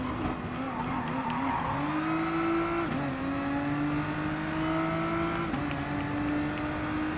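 A McLaren GT-R race car in Gran Turismo Sport roars steadily at Mount Panorama, its engine note climbing through gears with brief dips at shifts, loud and continuous throughout.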